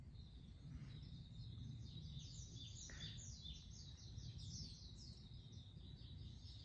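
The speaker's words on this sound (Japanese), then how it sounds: "今日もすごいです。鳥さんたちの声が、鳥さんたちがすごいです。" Birds chirp and sing in a steady series of high calls beside an outdoor hot spring bath, faint over a constant low rumble of flowing water or wind.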